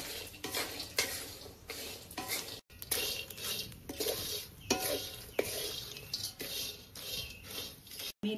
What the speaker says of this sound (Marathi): मी जायफळ भाजताना थोडासा तेल घालतोय